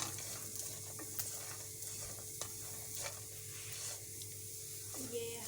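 Nuts fry in butter in a frying pan over moderate heat with a soft, steady sizzle and occasional light stirring clicks, fairly quiet and close.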